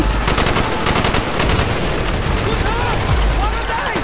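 Dense gunfire in a firefight in the shooter game Call of Duty: Black Ops, a continuous loud clatter of rapid automatic shots with heavy booms and shouted voices mixed in throughout.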